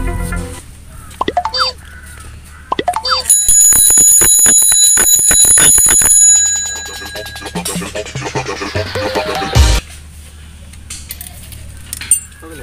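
Bright metallic ringing, like a bell struck repeatedly, rises into a loud sustained clang, then fades among clattering and scattered knocks.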